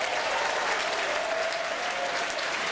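Banquet audience applauding at PaizoCon, a dense, steady wash of many hands clapping together, fairly distant and continuous for the whole stretch with no voices over it.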